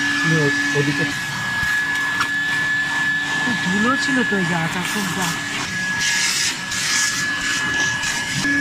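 A handheld vacuum cleaner runs steadily while cleaning the dusty interior of a Tata Altroz car, a continuous whine with shifting pitch as the nozzle moves over seats and surfaces, loud and close.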